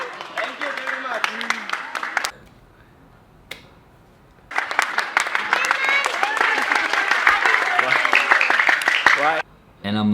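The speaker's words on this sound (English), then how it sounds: "And then soon more people start clapping" A crowd claps in two bursts of dense, crisp applause separated by a quiet gap, the second swelling louder and sustained before cutting off abruptly.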